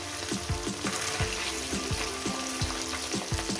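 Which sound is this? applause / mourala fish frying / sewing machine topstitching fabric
mourala fish frying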